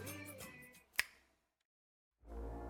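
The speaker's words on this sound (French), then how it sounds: "un claquement de doigts pour tout démonter, et un deuxième pour tout remettre dans le bon sens" A single crisp finger snap sounds close up, in a short pause between talk, and is followed by silence.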